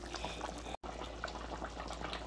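Tarpon curry cooking Guyanese style bubbles steadily in a pot, a soft continuous liquid simmer at low level with a faint hum underneath and a brief dropout near the start.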